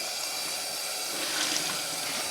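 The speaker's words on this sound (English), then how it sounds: "Now this is just cold water at the moment that I'm rinsing the t-shirt through." Cold tap water runs and splashes steadily over a dyed t-shirt being rinsed in a sink, a faint, continuous hiss with no talk.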